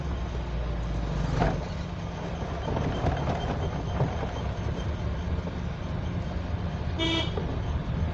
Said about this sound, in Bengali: এবার হরেন দেন, আরেকটা দেন